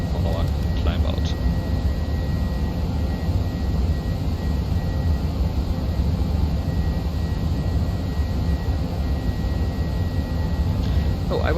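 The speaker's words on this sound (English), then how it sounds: "And now the aircraft is nicely accelerating to 250 knots for our climb out." Airliner jet engines in a flight simulator during climb out while accelerating to 250 knots, a steady, loud broadband roar with a faint constant whine and no pauses, and someone talking over it.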